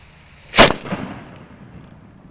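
A homemade cannon fires a single loud, sharp boom that decays into a brief rumbling echo, with quiet outdoor background before and after.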